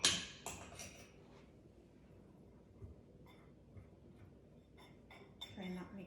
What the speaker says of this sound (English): So we are gonna whisk this together.